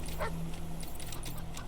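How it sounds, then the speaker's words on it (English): A dog in the game Wasteland 3 gives a few short yips and barks over a low background hum. The sounds are moderate in level and come in quick bursts. "Dog."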